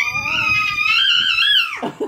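A young child screams loudly and continuously at high pitch for nearly two seconds, close to the mic, the scream sliding down at the end over faint background sounds.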